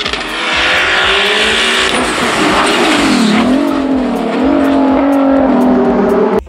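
A Volkswagen VR6 narrow-angle six-cylinder engine revs hard and loud, its pitch climbing, dipping and climbing again over several seconds, with what sounds like tire squeal mixed in.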